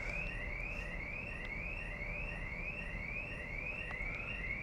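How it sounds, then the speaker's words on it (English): A parked car's alarm blares on a London street, a repeating rising electronic whoop cycling steadily about twice a second over a constant rushing wind-like background, moderately distant. "Someone's car alarm."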